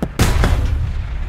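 An M4A1 tank cannon fires in the War Thunder video game: one loud, booming shot with a heavy low thump that rolls off into a reverberant tail, heard alone.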